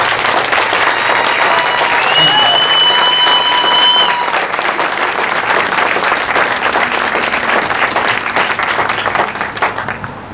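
Loud, sustained audience applause at a cardiology clinic's grand opening press conference, dense clapping filling the room and slowly fading toward the end, with some voices mixed in.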